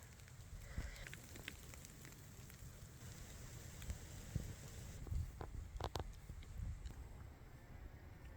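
Rain falls outside a camper as a steady, faint patter with occasional sharper drops, continuous through the whole stretch.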